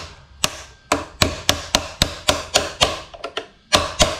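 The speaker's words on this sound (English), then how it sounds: "get the little hammer and smash it down a little bit" A small hammer taps an edger trimmer part into place, about a dozen sharp, evenly spaced metal knocks, close and distinct, with no talking.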